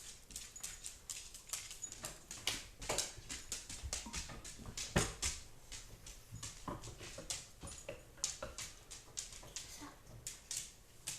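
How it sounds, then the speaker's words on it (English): Dogs walk around indoors behind a seated person, their claws producing many light, irregular clicks and taps on the floor, fairly faint and scattered throughout. "If you hear a lot of clicking, it's just because I got dogs and they're walking around behind me"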